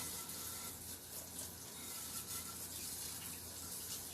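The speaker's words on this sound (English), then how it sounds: "I'm going to wash my beater." A mixer beater coated with butter is rinsed under a running kitchen tap, a steady faint splash of flowing water throughout with no voices.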